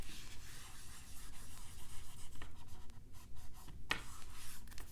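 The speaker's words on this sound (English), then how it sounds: "I'm about to erase, and we'll do another example" Eraser rubbing across a classroom board during a calculus lecture, a continuous soft scratchy swishing with rhythmic strokes and a brief sharper squeak near the end.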